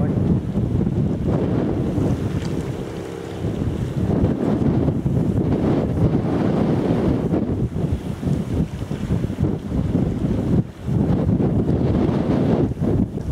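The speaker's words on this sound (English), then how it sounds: "I'm struggling with the wind today" Strong wind buffets the microphone on a coastal walk through a nature reserve between North Fambridge and Burnham-on-Crouch, a loud continuous roar and rumble with gusts rising and falling throughout.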